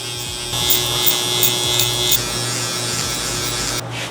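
Electric hair clippers with a number 4 guard and the lever open run with a steady close buzz while cutting hair, with brief rhythmic surges as the blade passes through and a cutoff near the end.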